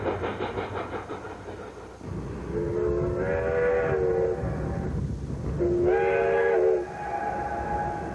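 A Cumbres & Toltec train with a rotary snow plow rumbles steadily near Lobato and sounds two long, loud whistle blasts, one after the other, over the continuous churning of the train.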